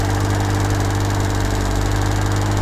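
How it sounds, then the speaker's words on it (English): An electric fuel pump newly installed in a Bedford Rascal van runs loudly and steadily, a dense continuous whirring drone with a strong low hum and no breaks or talking. "the fuel pump sounds very loud still"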